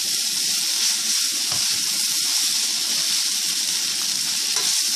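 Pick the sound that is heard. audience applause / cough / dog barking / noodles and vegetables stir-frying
noodles and vegetables stir-frying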